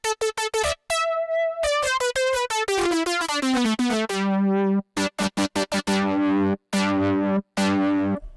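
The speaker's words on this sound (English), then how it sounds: "this distorted synth sound, using the different saw waves and some distortion" A distorted saw-wave synth from the Logic Pro X ES2 plays a loud dubstep-style riff of stuttering, choppy notes and a sliding descending line, buzzy and harmonically dense, with no voice.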